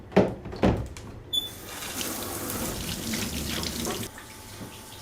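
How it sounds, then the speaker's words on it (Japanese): Tap water runs into a sink as hands are washed, a soft steady splashing stream after a few short knocks and clatters at the start. "ちょっと待ってね、手洗わなきゃ。"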